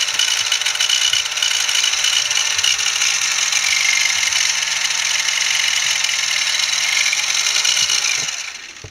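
Electric motors of a homemade RC car with steering-wheel control whine in a steady, loud, high-pitched drone for about eight seconds, then cut off abruptly at the end, with no voices.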